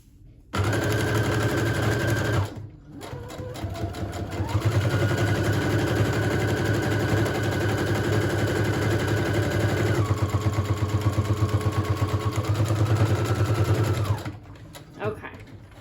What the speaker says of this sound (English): we're just going to sew around the 3 edges. In fact, I'm gonna sew it upside down so I can see where I'm sewing